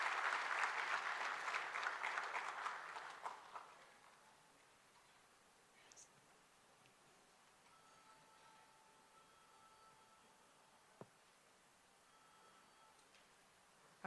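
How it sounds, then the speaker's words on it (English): Applause for the Prime Minister of Jamaica at an anniversary gala, loud clapping for about three seconds that quickly fades into a quiet room with faint rustles and a single click. "And we can give him a round of applause."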